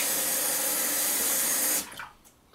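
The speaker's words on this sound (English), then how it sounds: "Let me rinse just a sec, please." Tap water runs steadily as a sink rinse, a broad even hiss that stops abruptly partway through, leaving a few faint drips and clinks.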